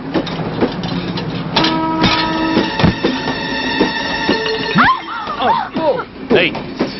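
A train rumbles and rattles along the rails with sustained whining metallic tones, while voices talk over it near a station.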